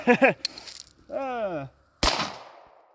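A shotgun fires a homemade super birdshot shell: one sharp, loud blast near the end, preceded by people talking.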